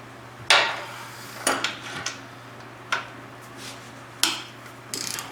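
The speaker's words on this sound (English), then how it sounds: "Guess I'm gonna have to go with a ratchet." Ratchet wrench turning a bolt on a Bronco II: scattered sharp metallic clicks and knocks, about six spread over a few seconds, fairly quiet over a steady low hum, with no talk.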